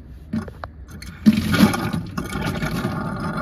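A coin-operated water vending machine starts up and water gushes out, a loud rushing, splashing pour that surges after a few soft clunks and then settles into a steady flow.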